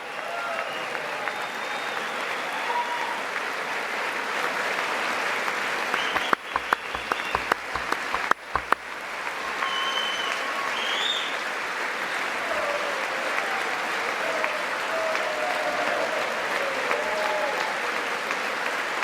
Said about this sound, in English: You gotta clap for that one.